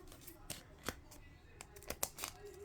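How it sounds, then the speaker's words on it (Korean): A booster pack wrapper for Cookie Run trading cards is cut open with scissors, giving a handful of short, sharp snips and crinkles spaced irregularly, close to the microphone under faint background noise. "가위로 오렸는데"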